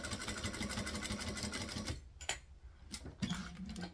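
A sewing machine stitches a purse project in steady rapid bursts for about two seconds, then short stop-start runs as the needle is set down and the work pivoted at a corner, fairly close and without talk.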